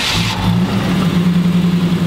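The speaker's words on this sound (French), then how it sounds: "on reconnaît quand même le bruit du V8" A V8 engine in a 750 hp Suprasonic boat starts up and catches, then settles into a loud, close, steady low rumble with slight throttle swells.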